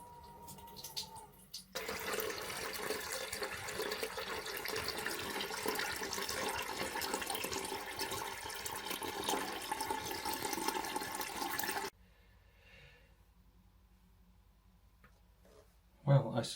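Water runs steadily into a newly installed toilet cistern, a continuous rushing fill that starts abruptly, carries on for about ten seconds, then cuts off to near quiet before a short burst at the end.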